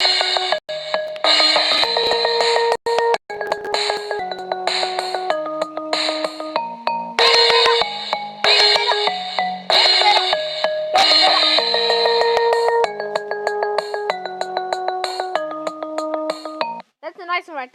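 Deadpool-themed iPhone ringtone playing loud and continuous: a bright, tonal melody of sustained ringing notes in short phrases, with a warbling tone at the end.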